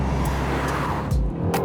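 A 2024 Aston Martin Vantage with a 665 PS engine drones steadily while being driven hard through bends, a loud continuous roar heard from inside the cabin with road noise and no voices.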